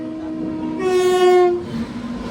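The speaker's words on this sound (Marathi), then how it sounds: "ट्रेन आ चुकी है." A train arriving on a Mumbai to Lonavala run sounds a loud, steady horn blast of about a second over the rumble and clatter of the rolling cars, with no talking.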